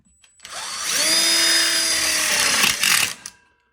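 A power drill drives a self-drilling screw into a metal connector plate on an outdoor kitchen frame: a loud, close whirring buzz ramps up, holds steady for about two seconds, then winds down with a short final burst.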